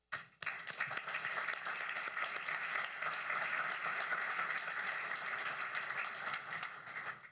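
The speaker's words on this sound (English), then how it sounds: "Please join me in a round of applause for all of them." A crowd at a bilateral energy summit at the Petroleum Club of Houston breaks into steady, dense applause that starts abruptly and carries on evenly for several seconds at moderate loudness, with no talking over it.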